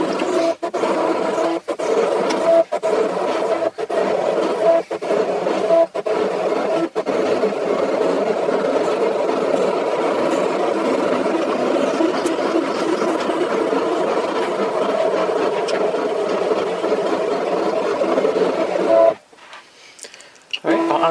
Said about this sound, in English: I am going to press the cut button.